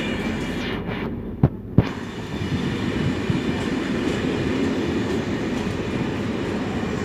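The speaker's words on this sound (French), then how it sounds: "Croisement magnifique entre deux trains." Trains passing one another at Lyon Part-Dieu station make a steady, loud rumble of rolling stock. Two sharp metallic clanks ring out early on, and there is no talking.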